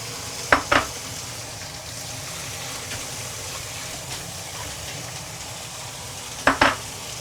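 Pork neck seasoned with salt and sliced garlic fries in a pan with a constant close sizzle, broken by two sharp clinks of a utensil against the pan near the start and again near the end.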